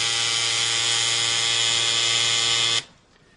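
A tattoo machine buzzes loudly and steadily with a bright electric whine, running continuously for nearly three seconds before cutting off abruptly into quiet.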